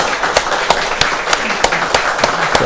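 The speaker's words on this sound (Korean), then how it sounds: "경례의 박수" Church congregation clapping together after a Sunday sermon, steady crowd applause from a room of worshippers with sharp louder claps standing out at regular intervals, continuing for a few seconds.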